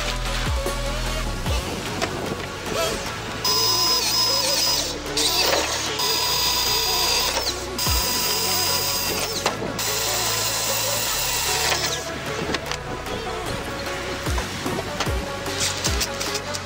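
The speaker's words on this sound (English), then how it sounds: "I'm gonna do that by drilling some holes and then just tapping the holes with a tap set" A power drill bores holes into a metal trailer hitch to mount a toolbox, running in repeated loud bursts with brief pauses and clicks between, close by.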